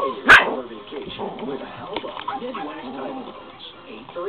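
Toy dog giving a sharp bark followed by yips and whimpering, close and fairly loud, mixed with people talking nearby.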